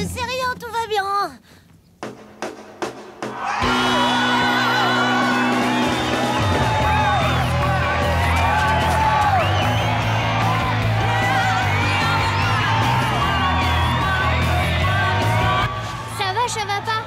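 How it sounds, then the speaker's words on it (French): A concert crowd in India cheers, whoops and applauds loudly and steadily for over ten seconds, with music playing underneath, after a brief spoken lead-in. "On les applaudit très fort."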